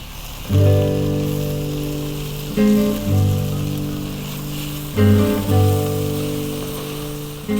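Onions and dried rosemary leaves sizzling as they are stir-fried in a Dutch oven for lamb stew, a steady close frying hiss with occasional stirring bumps and scrapes.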